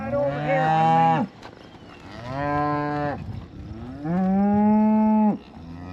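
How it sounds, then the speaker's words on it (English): Old cows moo in a pasture, three long, loud calls close by, each lasting over a second with short pauses between. "this is kind of just where we've kept the old cows."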